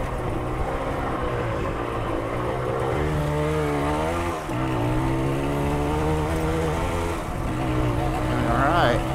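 Yamaha DT175 two-stroke dirt bike engine braking downhill on a wooded trail, a steady droning engine whose pitch wavers and dips as the bike rolls along, continuous and fairly close throughout.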